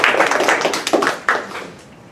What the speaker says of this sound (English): There might be a lot of clapping